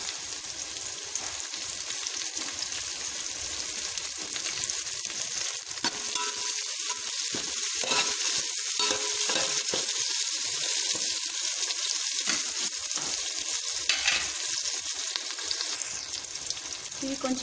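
Green chillies frying in a pan for moong dal khichdi, a steady crackling sizzle close by, with occasional stirring scrapes over the constant hiss.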